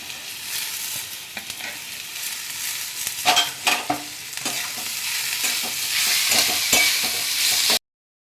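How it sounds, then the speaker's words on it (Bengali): Vegetables with grated ginger sauté over a high flame, hissing loudly and evenly as a spatula scrapes and taps the pan in short bursts, close up and without speech, until an abrupt cut at the end. "দিয়ে এটা আমি একটু সতে করে নেব। ফ্লেমটা কিন্তু জোরেই রাখবো"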